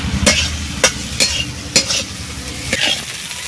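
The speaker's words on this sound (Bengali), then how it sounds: "চিংড়ি মাছগুলো ভাজা হয়ে গেছে" Prawns frying in a pan with salt and turmeric, a steady sizzle broken by several sharp scraping stirs of a spatula at irregular intervals, close and fairly loud, with no talking.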